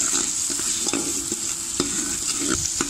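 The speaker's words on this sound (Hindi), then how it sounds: "अब हम लहसुन अदरक के पेस्ट को 2 मिनट भून लेंगे ताकि इसका कच्चापन ख़त्म हो जाए" Garlic ginger paste frying in oil for a traditional sobat dish, giving a steady close sizzle with soft scraping strokes of stirring throughout.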